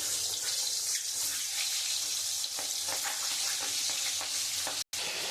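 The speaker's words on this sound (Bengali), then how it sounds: "এবার আমি ডিমটা একটু লাল করে ভেজে নেব" Eggs sizzle in hot oil in a wok, a steady bright crackle with occasional soft stirring taps, fairly quiet and close, broken by one brief dropout near the end.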